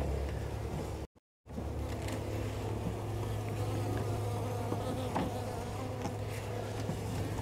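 Honeybees hum in a dense, steady buzz close by at a hive being installed, with a brief dropout partway through.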